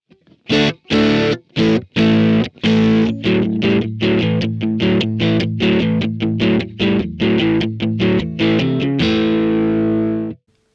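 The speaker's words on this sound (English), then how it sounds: "if I turn that up, then the tone will get a lot more harsh, more overdriven" An electric guitar played through a VOX AC30 amPlug 2 at high gain gives a harsh, heavily overdriven tone, loud and alone, with rhythmic chopped chords that end in one long sustained ring.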